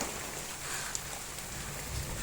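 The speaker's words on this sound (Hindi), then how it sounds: "देखा, हम भी पहुंचे, बारिश भी आई।" Steady rain falls in a village setting with an even, soft hiss across the clip and one faint tick near the middle; no voices are heard.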